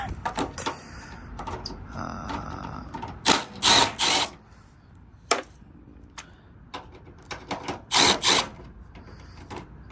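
A power tool whirs in short loud bursts while backing out headlight bolts on a car, two longer runs separated by quieter clicks, rattles and handling noises close by.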